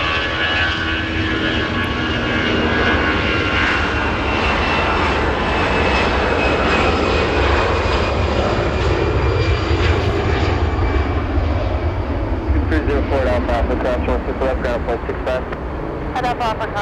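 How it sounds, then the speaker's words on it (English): A Delta Air Lines jet airliner departs Los Angeles International bound for Las Vegas, its engine roar loud and sustained throughout, with radio chatter and a voice talking over it and brief clicking bursts near the end. "We have a correction, Delta Airlines departure flying to Vegas."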